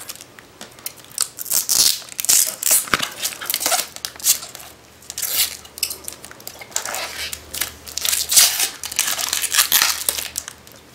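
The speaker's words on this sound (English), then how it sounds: "Let's peel off the plastic." Plastic film is peeled and crinkled off a Nintendo Wii U 32 GB Deluxe edition console, giving bursts of crackling and tearing at close range over about eleven seconds, with no talking.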